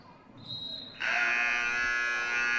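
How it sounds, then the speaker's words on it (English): A loud basketball game clock buzzer sounds at the end of the third quarter of a high school game, holding steadily for over a second, cutting in sharply after a brief higher tone and faint background noise. "as the buzzer rings"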